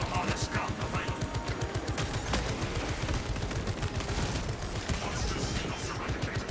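Heavy gun in the video game Space Marine 2 fires a long, loud, rapid automatic burst with a steady stutter of shots that runs throughout. Game voice lines play over the gunfire.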